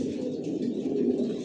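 Racer pigeons of one line coo together in a loft, a steady, close chorus of low throaty calls running throughout with no voices.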